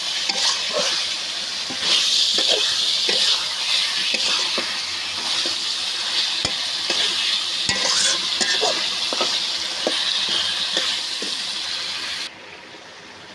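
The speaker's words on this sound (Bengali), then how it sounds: "একটা গাল, একটা লেজ, মাছের মাথাটা সুন্দরভাবে কষিয়ে নিলাম।" A fish head, cheek and tail pieces sautéed in a pan for a banana-flower dish, with loud continuous sizzling and frying crackle, repeated spatula scrapes and knocks throughout, cutting off abruptly near the end.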